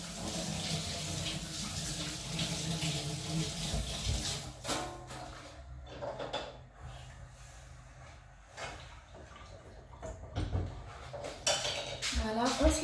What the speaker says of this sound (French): Alors, je me lave les mains.